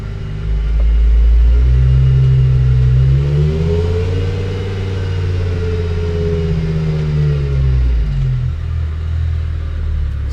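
A BMW E39 M5's S85 V10 engine runs loud and close, its deep rumble swelling as it revs, holding for several seconds, then settling back down near the end.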